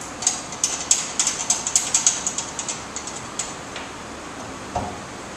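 A ratchet or wrench clicks in a quick run of sharp ticks while the nut on a draw bolt is snugged up during a TV mount installation, then slows to a few scattered clicks.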